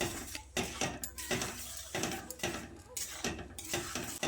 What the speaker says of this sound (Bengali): তারপর নেড়ে চেড়ে গুড়টাকে গলিয়ে নিতে হবে।